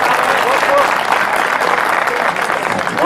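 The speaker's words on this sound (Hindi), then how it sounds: "एक बार और उनके लिए तालियां।" Loud, dense applause from a mushaira audience at an Urdu poetry gathering in Balapur, sustained without a break and heard close.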